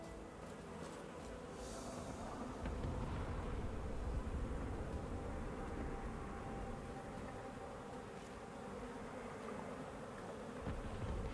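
Steady swarm of buzzing bees summoned in the action RPG Last Epoch, a dense droning hum that holds continuously at moderate loudness with no talk over it.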